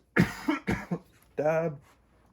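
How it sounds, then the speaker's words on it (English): Two sharp coughs close to the mic, followed by a brief voiced sound and a faint click at the end. "sorry for the cough."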